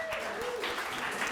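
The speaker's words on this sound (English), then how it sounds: "let's give him a round of applause" Applause from an audience at a football club awards event, a steady wash of clapping running through the short moment with no clear break.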